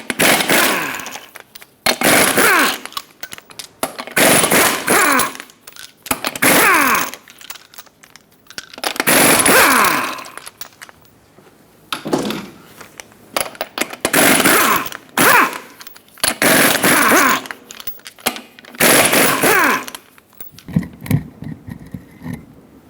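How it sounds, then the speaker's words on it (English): Lug nuts coming off a 2000-2005 Ford Excursion front wheel with a 21mm socket on an impact tool: repeated loud bursts of whirring and rattling, about eight, separated by short pauses, close up with no talk. "Use a 21mm socket and remove all 8 lug nuts,"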